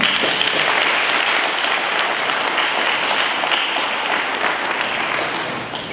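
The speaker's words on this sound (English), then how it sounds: "I want to hear a round of applause for him." A crowd at a community conference gives a dense, sustained round of applause for a community doctor, loud and even before tapering slightly at the end.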